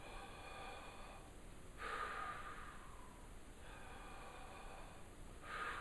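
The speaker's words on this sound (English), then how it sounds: "You want to really take in a lot of air, almost feel your stomach fill up with air, big breaths" Deep, slow breaths taken while practising breath control for rock singing, heard close and alone, with two long inhalations that pull air down toward the stomach.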